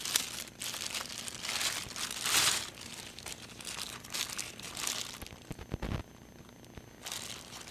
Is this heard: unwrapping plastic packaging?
yes